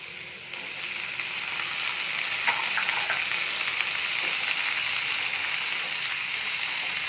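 Tomatoes cooking in a hot pan for paneer bhurji, a steady loud sizzle and crackle that swells after a second and holds evenly, close up with no talking.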